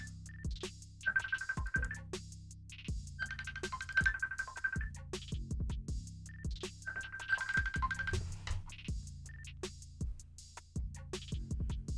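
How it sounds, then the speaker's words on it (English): A computer browser ringtone rings in repeated bursts of a steady electronic tone, with clicks and clatter between them, at moderate level under a faint room background. "I don't even know what browser it is that's ringing on right now."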